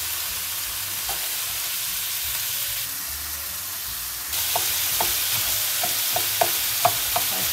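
Onion and carrot frying in a pan, a steady sizzle underneath with a series of sharp scrapes and taps from stirring, growing louder partway through.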